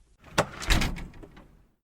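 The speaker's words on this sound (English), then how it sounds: "The screen door slams as Bob makes a fast exit." A screen door bangs shut with a quick knock followed by a short rattling slam that fades within about a second, heard alone and fairly close.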